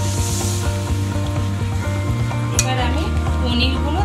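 Water poured into a hot pan of spinach curry for palak paneer sets off a steady, close sizzle and bubbling hiss that runs throughout, with faint stirring and kitchen clatter.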